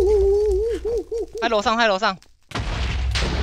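An explosion in the video game Minecraft, a loud, broad, noisy burst that cuts in after a brief silence and fills the last second, following excited voices talking.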